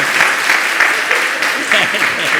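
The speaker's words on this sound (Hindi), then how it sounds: "बजाओ ताली एक बार" An audience at a Jain monk's question-and-answer gathering in Shikharji, Jharkhand claps loudly on cue, dense applause with rhythmic bursts of clapping running throughout.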